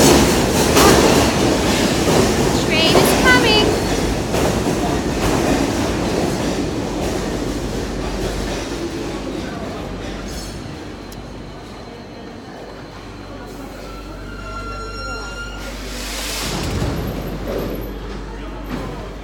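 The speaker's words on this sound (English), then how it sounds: "train is coming." A train pulls into a Paris station with a loud, steady rumble and clatter that gradually fades. High brake squeals and a hiss follow near the end.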